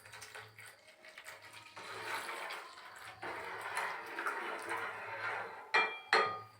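Milk streams into a rice cooker pot holding chopped cashews for payas, heard as soft intermittent pouring and splashing. A few bright metallic clinks of the pot near the end stand out over faint background noise.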